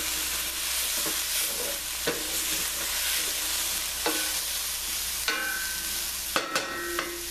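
Vegetables sizzle steadily in a frying pan while a utensil scrapes and pushes them aside, with occasional sharp clinks and taps over the continuous frying hiss.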